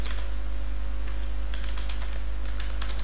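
Keys on a computer keyboard are tapped in quick irregular bursts while coding an app, over a loud constant low hum, with no talking.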